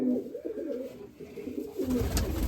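Mykolaiv pigeons coo in low, throaty rolling calls nearby, followed by a louder rustle or flutter at the end.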